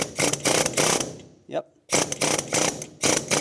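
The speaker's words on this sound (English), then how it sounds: "I switched to a long air chisel bit." An air chisel with a long bit hammering on the rack and pinion of a 1996-2002 Toyota 4Runner, in loud rapid bursts with short pauses, and a brief spoken word in between.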